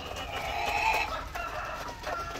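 Black Australorp breeder chickens on a farm cluck and call, with a crow rising near the middle, a nearby flock sounding continuously without talk.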